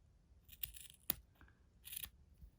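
Scissors cut through a bundle of crochet yarn strands in a few quiet, crisp snips, with one sharp click in the middle and a brief rustle afterward, close by and without speech.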